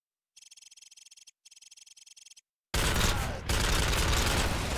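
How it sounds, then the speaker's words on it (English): Two quick bursts of rapid, crackling automatic gunfire in Call of Duty 4, then a loud sustained blast of noise with a brief dip partway through. "Sergeant Romanov is shooting at us!"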